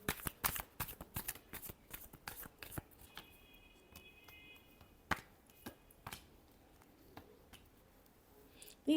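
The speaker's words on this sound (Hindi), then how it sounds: "Last shuffle." A deck of cards is shuffled in a quick flurry of crisp riffling snaps up close, then sparse single clicks and taps follow in a quieter stretch.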